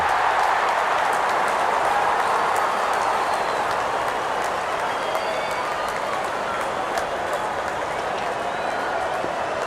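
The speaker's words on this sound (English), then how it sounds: "Openers walking in and the crowd cheering in anticipation." Crowd cheering in a stadium during a Real Cricket 24 match, India versus Pakistan, as the openers walk out; a steady, dense roar of crowd noise and applause runs throughout at constant loudness.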